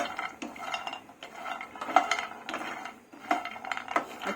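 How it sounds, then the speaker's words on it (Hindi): Pumpkin seeds, makhana and poppy seeds dry-roasting in a pan, with a spoon scraping and clinking against the metal in steady, irregular strokes at close range, no voices. "अच्छे से भूनना है, घुमाते हुए।"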